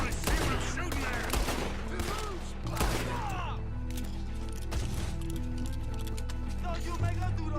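Gunfire in Red Dead Redemption 2, sharp shots and bursts crackling over a steady game music bed, with voices talking over the opening seconds.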